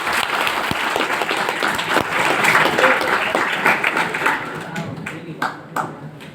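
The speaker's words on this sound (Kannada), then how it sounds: "ಎಲ್ಲರೂ ಒಂದ್ಸರಿ ಜೋರ ಚಪ್ಪಾಳೆ ಹಾಕಿ." Loud, sustained applause from a large audience at a youth constitution event in Kolar, dense clapping that swells and then thins into scattered claps, with a few voices in the crowd.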